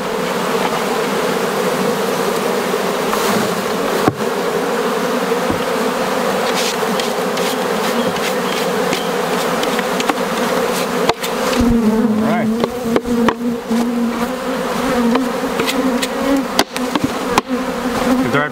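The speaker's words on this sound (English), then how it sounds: "Bees flying around, that's fine." Bees fly around recently split hives in an apiary, a dense, close and continuous buzzing swarm with single insects droning past and a few sharp knocks.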